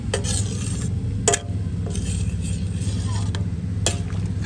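Mung beans, jackfruit, squash, string beans and malunggay leaves stirred in a simmering pot, with scraping utensil strokes at about 0.2, 1.3, 3.9 and 4.4 seconds over a steady bubbling, low-frequency hum.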